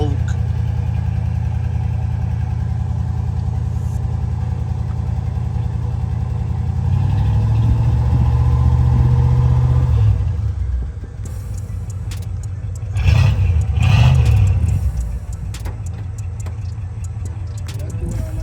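An old-school car engine idles with a deep, loud rumble, rises into a heavier revving stretch, then drops and gives a couple of further rev bursts, with people talking over it.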